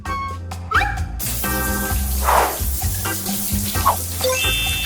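A running toy shower in a Barbie doll house gives a continuous close splash and trickle of water, with light clatter and brief tonal squeaks over a steady background.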